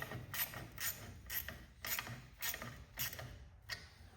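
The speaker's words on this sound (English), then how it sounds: "Now I'm going to get the valve tightened. Now this one here I should be able to get. I'm using that 13mm socket." A 13mm stubby socket on a ratchet tightening a hydraulic valve on a Cub Cadet 1811 tractor: about eight faint, evenly spaced ratcheting bursts of clicking, heard close up and alone.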